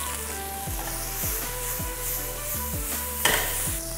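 Green chilies fry in a hot pan with a loud, steady sizzle, alongside repeated scraping strokes of a utensil stirring them, close up and with no voices.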